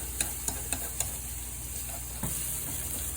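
Chorizo sautéing in a pan for pasta, a soft steady sizzle with a few light spoon taps and scrapes at the start and a short stir near the end, no voices.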